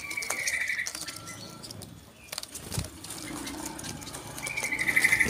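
Zebra doves (perkutut) held in a group cage, with soft cooing calls near the start and near the end, set against a busy background of other birds and outdoor noise.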